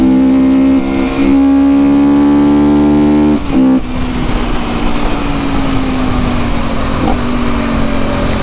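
A quad bike engine revs hard with the throttle wide open and climbs in pitch, loud and close, with steady harmonic drone shifting as the throttle opens.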